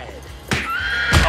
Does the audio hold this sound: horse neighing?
yes